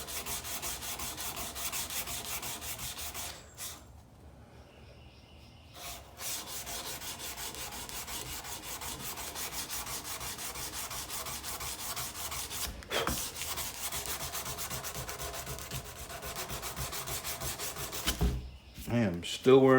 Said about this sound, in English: I'm going to sand out the scratches from the sanding drum on that